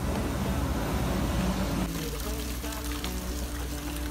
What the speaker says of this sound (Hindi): थोड़ा सा आगे चलने के बाद हमें दिखा यहाँ पे छोटा सा वाटरफॉल